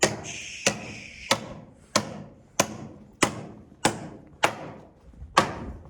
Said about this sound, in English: that's the sound of a hammer hitting a nail